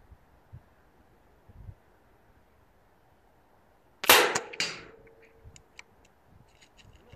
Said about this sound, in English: All right, so a 10-shot grouping at the same distance, 35 meters, the same pellets.